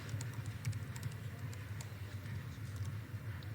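Soft, quick keystrokes on a computer keyboard while code is typed, a light steady patter over a low background hum.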